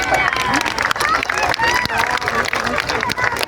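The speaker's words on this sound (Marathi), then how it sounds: "एकदा जोरात सगळ्यांसाठी टाळ्या झाल्या." A crowd claps and cheers at a Nashik city police Republic Day parade ground, dense and sustained with sharp clap transients, under an announcer's voice over a loudspeaker.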